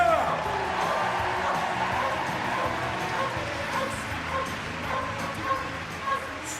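A police firearms support dog barks in a busy arena at a dog show, its sharp yips and barks rising over a steady roar of crowd noise.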